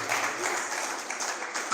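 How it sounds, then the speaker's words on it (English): A conference audience bursts into a round of applause, a dense, steady wash of many hands clapping together at moderate loudness that lasts the whole stretch without a break. "feel free to give yourselves a round of applause for being part of this great program"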